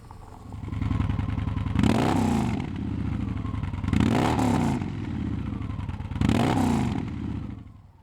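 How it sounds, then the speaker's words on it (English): Victory Vision motorcycle with a 106 cubic inch V-twin and mild Stage 1 exhaust, idling with a deep lumpy rumble broken by three loud throttle blips that rise and fall, close by, with no talking. "it still has that familiar old American V-twin sound."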